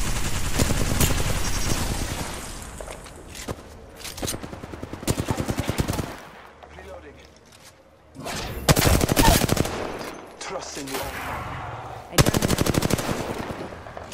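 Sustained automatic gunfire from an Apex Legends match, loud bursts of rapid shots coming in several waves with short lulls between them.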